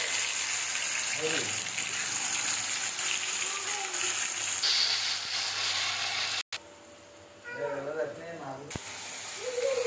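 Spice paste fries in oil in a pan as a splash of water is added, giving a steady loud hiss and sizzle with a brief sharp cut, then a quieter bubbling, while someone talks over it.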